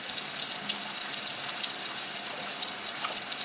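Running tap water hisses steadily into a sink while hands are scrubbed underneath, a soft even splashing with no break across the few seconds.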